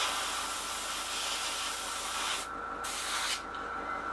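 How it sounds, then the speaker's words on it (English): An airbrush sprays base colour paint onto a Seafire XV scale model, a close, steady hiss that briefly cuts out twice near the end as the trigger is released. "add a couple of brushfuls of the base colour to my paint pot, airbrush cup, make sure it's mixed, make sure it's spraying"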